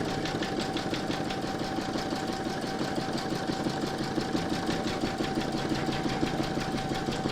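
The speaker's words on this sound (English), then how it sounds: "Pop your hoop into your machine and stitch round number 8 to secure it." A home embroidery machine stitches a placement round on fabric taped into its hoop for an in-the-hoop crazy patch evening bag, a steady rapid mechanical chatter with a faint hum, continuous and close throughout.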